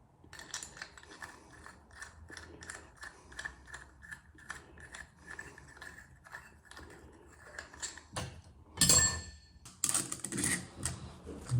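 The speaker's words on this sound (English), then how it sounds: "Tighten them down real good." Metallic ratcheting clicks and small tool clatter while tightening parts on a 1960s American Standard shower valve, rapid irregular ticks giving way to a few louder clanks near the end, close up with no talking.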